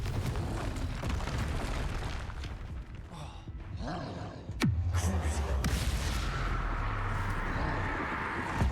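Bombarda and Confringo spell blasts in the Hogwarts Legacy video game, rumbling explosive booms with a sharp crack midway, loud and layered over a constant roaring game backdrop.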